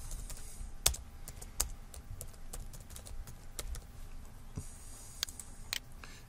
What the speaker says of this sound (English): what I could do here is type in just the expression